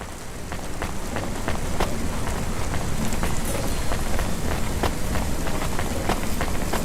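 Steady heavy rain falls in the Cloudpunk video game, a dense, constant hiss of drops spattering on surfaces with no gaps.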